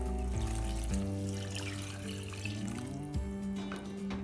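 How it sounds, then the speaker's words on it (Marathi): Water pours steadily into a pot of misal with a continuous splashing rush, close by, over a low sustained tonal hum. "आता आपण ह्याच्यात 1 वाडगाभर पाणी टाकूया"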